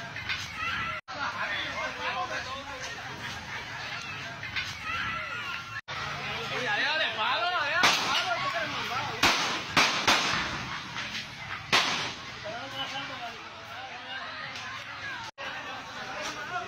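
Several sharp, loud gunshots ring out amid crowd chatter and shouting, spaced irregularly across the recording, as a suspect is shot dead.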